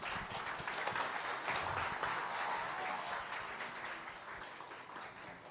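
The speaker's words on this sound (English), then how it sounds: "Let's not let the clap stop, shall we?" Audience applause at an international awards ceremony for a pair of sisters performing folklore and music, a steady dense wash of clapping from a large crowd, sustained and fairly distant, slowly easing.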